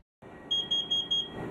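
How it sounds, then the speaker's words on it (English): A carbon monoxide detector alarm sounds four sharp, high electronic beeps in quick, evenly spaced succession, loud and close. "These 4 beeps mean it's time to get outside immediately."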